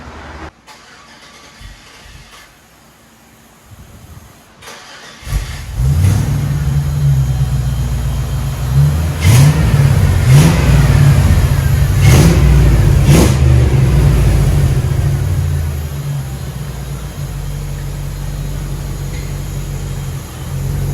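A 5.3 LS V8 swapped into a 1938 Packard, breathing through true dual exhaust with Dynomax Turbo mufflers, idles quietly, then fires up and revs repeatedly in loud, deep bursts before settling back to a rumbling idle, close by with no talk.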